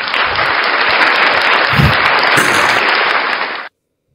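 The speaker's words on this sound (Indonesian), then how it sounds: "Tepuk tangan buat Tuhan." Audience clapping in a church-style gathering, a dense, loud, steady wash of many hands that holds for over three seconds before stopping abruptly.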